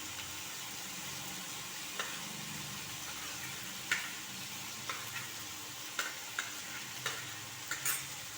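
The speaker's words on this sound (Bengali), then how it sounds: "দিয়ে ভালোভাবে মিশিয়ে নেব" Chopped beans and carrots stirred together in a pan for vegetable pasta, a soft, low sizzle broken by sparse sharp spatula scrapes and taps, growing more frequent toward the end.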